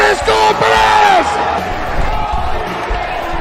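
A wrestling crowd cheers and whoops loudly in a large venue, with rising shouts and whistles early on that settle into a sustained roar of crowd noise.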